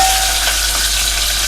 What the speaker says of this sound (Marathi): ही बघा, फोडणी अशी चांगली तडतडली पाहिजे।